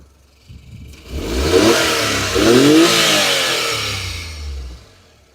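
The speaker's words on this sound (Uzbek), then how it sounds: "Motor ishlashlari ham o'ta go'zal" A Daewoo Damas minivan engine with an automatic gearbox revs up and holds high for several seconds before easing off, loud and close with no talk.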